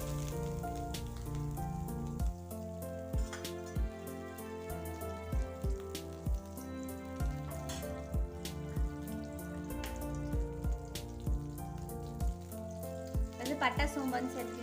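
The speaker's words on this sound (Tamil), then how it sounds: "கடை நல்லா காஞ்சி பட்டர் சேர்த்துக்கலாங்க" Butter sizzles in a hot kadai, giving a steady crackling fry with scattered pops and spits close up.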